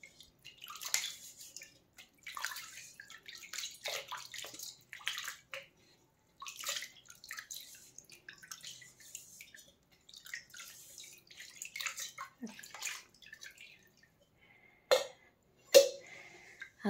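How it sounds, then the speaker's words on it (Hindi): An old copper or brass lota pot is rinsed and washed with water, giving irregular splashes, drips and sloshing at close range, with a couple of sharper knocks near the end and no talking. "इसको भी हम इसी तरीके से धो लेंगे,"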